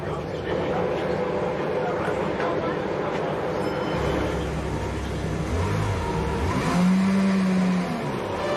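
Formula 1 cars at the start of the 2018 Austrian Grand Prix, engines revving and rising in pitch as they pull away, heard beneath a commentator's excited talk.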